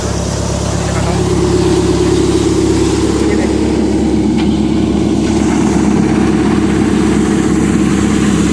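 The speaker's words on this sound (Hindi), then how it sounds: "पहले में नहीं है बाबू सिंह, दूसरे में है, दूसरे में चल रहा है दोस्तों।" A Sonalika 750 tractor engine runs in second gear during lentil threshing, producing a loud, steady diesel drone that holds constant throughout with no breaks.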